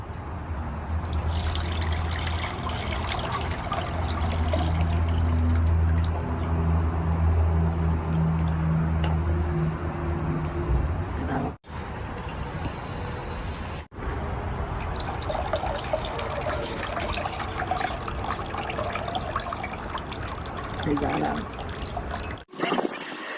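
Tamarind being squeezed by hand in water and the liquid poured while cooking pachi pulusu, heard as wet squishing, dripping and trickling splashes up close, with a couple of brief cuts and some low background hum.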